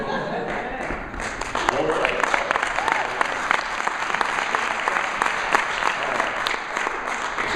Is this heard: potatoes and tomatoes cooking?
no